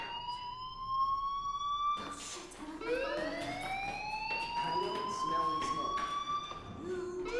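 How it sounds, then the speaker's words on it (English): A fire alarm in the video game Life is Strange rings as a steady electronic siren-like tone that repeats in rising, sweeping cycles, loud and continuous with a few brief breaks. "do you hear that fire alarm? That means you should be outside."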